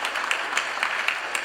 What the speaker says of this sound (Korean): 우리 감사의 박수 한번 보내주시기 바랍니다.